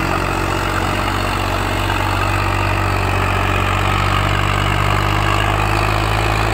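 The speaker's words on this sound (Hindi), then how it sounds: "इसकी आवाज देखो भाई ट्रैक्टर की दम" Loud, steady Swaraj 744 XT tractor engine running at a constant throbbing idle, close up and continuous, with no voices over it.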